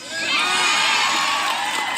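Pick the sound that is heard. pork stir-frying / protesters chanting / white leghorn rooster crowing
protesters chanting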